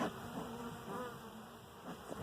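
Agitated honey bees at an opened hive drone in a steady, close, continuous buzz with a few wing-beat swells, heard alone without talk.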